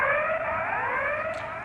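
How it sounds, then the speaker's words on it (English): A recorded criticality alarm from the Sellafield nuclear plant sounds continuously as a loud, steady electronic tone with layered harmonics. It holds at an even pitch with no pauses, and no one speaks. "the criticality alarm sound is whoop, whoop, whoop"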